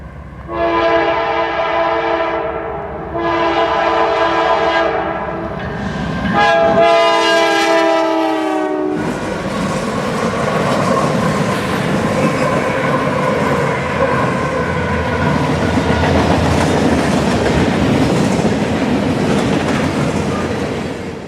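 Westbound freight train 11Q with seven locomotives passing close, opening with several loud sustained horn blasts, then a heavy rumbling roar with clattering wheels as the train rolls by.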